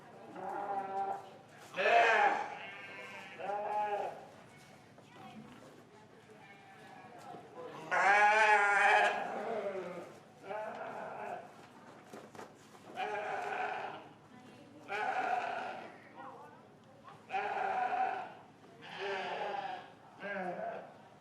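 Sheep at a 4-H show bleat repeatedly in drawn-out, wavering calls spread across the clip, some loud and near, others fainter, with an announcer's voice over a loudspeaker in the show ring between them.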